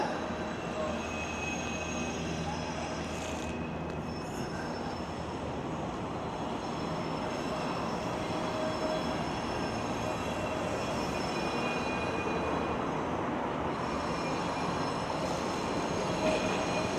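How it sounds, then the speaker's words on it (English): A train rumbles past continuously with metallic wheel squeal and steady rolling noise, fairly close, no voices, at night in Midtown Toronto along Yonge Street. "we got some trains, some train spotting"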